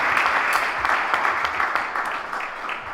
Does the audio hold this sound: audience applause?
yes